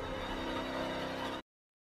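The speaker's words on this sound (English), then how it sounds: "Then we have the imposter death sound." A video game imposter death sound effect bursts out as a loud, harsh, noisy blast that holds steady for about a second and a half, then stops dead into silence.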